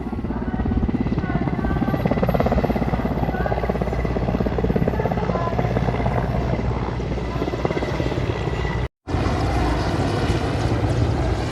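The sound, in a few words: helicopter landing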